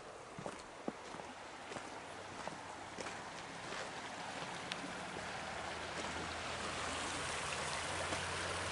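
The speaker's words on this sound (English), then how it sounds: "Pretty river." Steady broadband rush of a river flowing in woods beside a road at dusk, continuous and fairly close, with a few faint ticks and knocks over the water noise and no talking.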